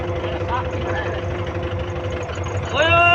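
A tractor engine idles with a steady low rumble and drone that grows louder and rougher near the end, while someone talks over it.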